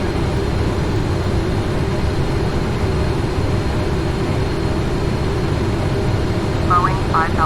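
PMDG Boeing 777 jet engines in FSX flight simulation during a windy landing at Gatwick, London, a steady loud broadband roar with low rumble throughout, a brief tonal chirp near the end.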